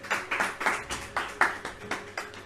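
Church congregation clapping in a steady rhythmic beat, about a dozen crisp hand claps at an even pace, moderately near with no talk.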